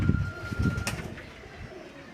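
Pigeons coo on a rooftop in Madina Town, Faisalabad, low throaty bursts clustered at the start and fading after a second, with a faint steady background hum.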